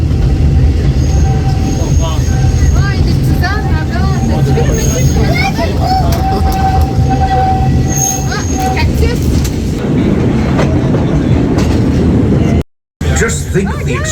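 Big Thunder Mountain runaway mine train roller coaster at Magic Kingdom rumbling along its track with squealing wheels and rattling cars, loud and continuous, under crowd chatter and voices, with a sudden brief dropout near the end.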